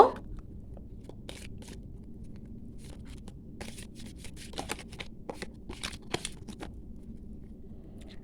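A deck of guidance cards being shuffled by hand, with soft repeated riffling and flicking bursts scattered over a quiet background, close and fairly faint, no talk.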